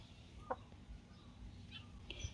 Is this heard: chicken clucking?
yes